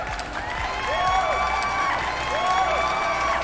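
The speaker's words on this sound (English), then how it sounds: "Applause from the crowd." Crowd applause from the Street Fighter 5 video game, a continuous wash of clapping and cheering mixed with whistling, steady and moderately loud over the full few seconds.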